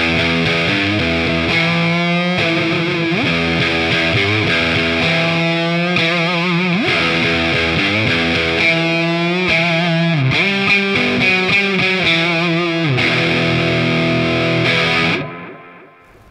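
Electric guitar plays through an Earthquaker Devices Space Spiral delay pedal, heavily distorted chords with shimmering, modulated repeats that sustain for about fifteen seconds and then cut off, leaving a brief decaying tail.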